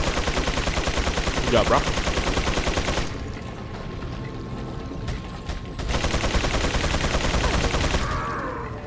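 Machine gun fire from an enemy in Resident Evil 4, sustained loud rapid automatic bursts with a brief lull in the middle before resuming, a voice speaking briefly over the fire.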